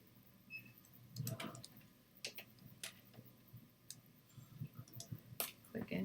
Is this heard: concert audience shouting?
no